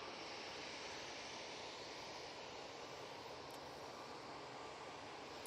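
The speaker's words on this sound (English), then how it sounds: "We have the EasyJet coming on right in front of us." An EasyJet airliner comes in to land at Manchester Airport, heard as a faint, distant, even jet roar that holds steady throughout.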